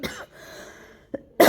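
A single short cough at the start, followed by quiet, a tiny throat sound, then another burst of coughing at the end, close and fairly loud.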